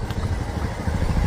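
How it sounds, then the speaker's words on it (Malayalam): A motorcycle engine rumbles low and steady, drawing slightly nearer and louder with a faint clattering edge, heard alone with no voices. "അവർ വരുന്നുണ്ട് തന്നെ ബൈക്കിൽ വരുന്നുണ്ട്"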